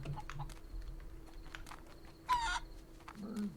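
Chicken clucks and squawks sound through a busy Barn Finders game soundscape with tapping keys, and one louder squawk stands out near the end.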